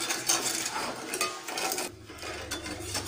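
Scraping and clinking of a utensil stirring sugar syrup in a pan over a low flame, with continuous soft metallic rubbing and occasional taps, close up and without talking.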